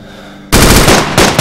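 Loud, close bursts of automatic gunfire in the video game ArmA 2, kicking in abruptly after a quiet start, with rapid repeated shots.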